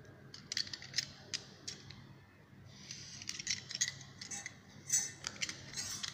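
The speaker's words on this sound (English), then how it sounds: "Now, I am going to cut the triangle ADE" Scissors cut a paper triangle in a series of soft, crisp snips and rustles. The cuts are close but quiet, coming in irregular bursts over several seconds with no talking.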